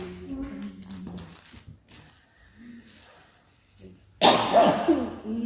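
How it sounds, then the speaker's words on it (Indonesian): A single loud, harsh cough bursts out near the end, following a stretch of quiet, muffled voice sounds and low background noise. "Tidak bisa ditahan soalnya batuk."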